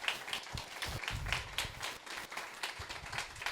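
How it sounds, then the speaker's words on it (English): Audience applause after a community discussion gathering, faint, sparse claps and scattered taps at a low level, as though from a small group. "Give yourselves a big round of applause."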